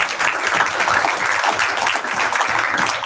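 Audience at an international conference on diversity, equity, inclusion and belonging applauding, a loud dense wash of many hands clapping steadily throughout.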